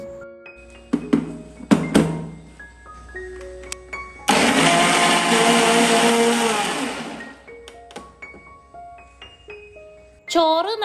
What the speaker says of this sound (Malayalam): ഈ ചോറ് നന്നായിട്ടൊന്ന് അരച്ചെടുക്കണം